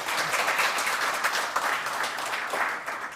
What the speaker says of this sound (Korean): 청장님과 정재준 기획조정관님께 다시 한번 큰 박수 부탁드리겠습니다